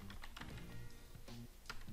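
Quick, steady typing on a computer keyboard while entering an expression in After Effects, a close run of light key clicks with no voices.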